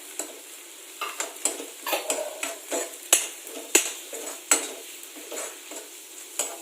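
A spoon stirs black pepper and cumin powder with green chillies in a pan for samosa filling, about a dozen rhythmic scrapes and clinks against the metal over a light sizzle.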